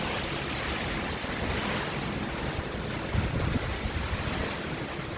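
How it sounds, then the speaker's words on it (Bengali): Cyclone Remal drives strong wind and crashing waves in a continuous, loud roar with heavy wind buffeting on the microphone and no voices. "অনেক জোরে বাতাস বয়ে যাচ্ছে"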